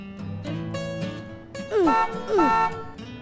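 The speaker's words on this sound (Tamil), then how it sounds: "வண்டியில ஹார்ன் இருக்குன்றதுனால அடிச்சுக்கிட்டே இருக்காத" Two short car horn honks sound close together near the middle, loud and bright, over a background of music-like tones.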